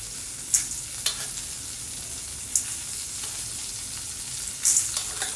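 Chana dal sizzling in a spoonful of hot tempering oil with curry leaves and mustard seeds, a steady close frying hiss broken by several sharp crackling pops.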